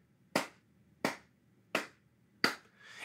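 Four sharp, evenly spaced hand claps keep a steady tempo, close and isolated against near silence.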